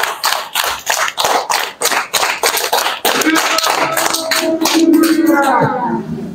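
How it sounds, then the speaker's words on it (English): Worshippers at a church Bible study service clap their hands in a rapid, steady run of sharp claps for about three seconds, then the clapping thins into a sustained murmur of crowd noise. "Where is the God clap?"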